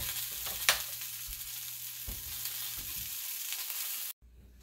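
Sausage links sizzle steadily in a hot pan, a close, continuous frying hiss with a few brief clatters, before the sound cuts off abruptly near the end.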